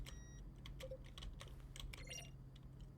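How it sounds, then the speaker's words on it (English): Short clicky button-press sounds from a video game menu, each blending a keyboard keystroke with a synth tone, repeating in a quick irregular series over a steady low hum. "A selection of sounds used throughout the game when buttons are pressed. Each sound is a mix of a keyboard stroke and a synth."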